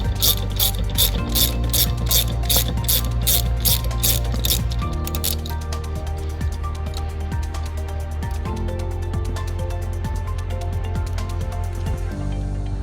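A ratchet wrench clicks rapidly and continuously while a 10mm nut is spun off a bolt on a Polaris Ranger during a reverse light kit install, the close, sharp pawl ticking changing pace through the stroke.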